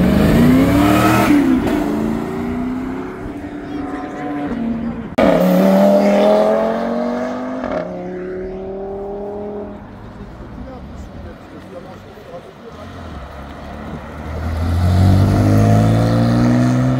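Sports cars at the Grand-Est supercar meeting roar past in loud, close bursts, their engines rising and falling in pitch through repeated hard accelerations, with one car revving up strongly again at the end.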